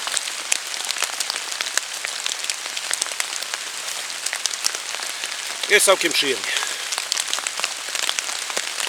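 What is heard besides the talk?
rain falling in a forest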